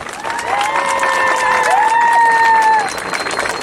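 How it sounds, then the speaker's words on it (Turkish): A crowd applauds at the opening of a vegan festival in Didim, sustained clapping and cheering over a few seconds with a melodic instrument or voice ringing above the noise. "Kendisine kuvvetli bir alkış rica ediyorum"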